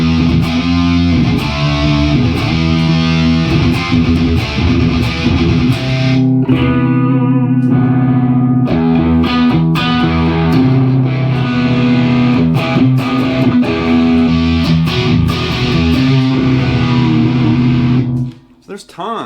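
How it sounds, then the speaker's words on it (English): An electric guitar played through an effects unit set to a heavy-gain distortion tone rings out in thick, sustained, saturated chords and notes, loud and continuous, before stopping near the end. "I'm not really digging the heavy gain tone."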